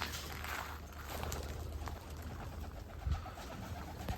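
Domestic pigeons coo softly in a loft or yard, low repeated throaty calls over a faint steady background, with a brief flutter of movement near the end.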